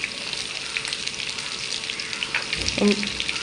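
Ginger, garlic and dried red chillies sauté in oil for a yellow pumpkin chutney, a steady close sizzle with a brief clatter and bump near the end.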